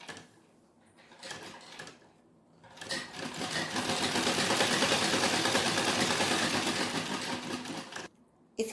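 A sewing machine stitches a lined blouse, running in short starts before settling into a long, steady whirring run of needle clatter, then stopping abruptly; no talking.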